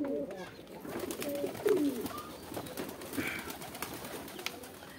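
Pigeons, including a cream-coloured sandalwood pair, coo softly in a loft. Low, rolling coos repeat at moderate volume over a faint background.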